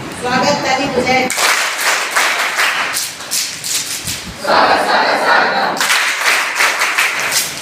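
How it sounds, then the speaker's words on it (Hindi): A crowd at a welcoming ceremony on the road from Gangadhar to Vishwanath Dham in Kashi claps in loud, dense bursts that stop and restart, with voices calling out between them. "स्वागत ताली बजाए।"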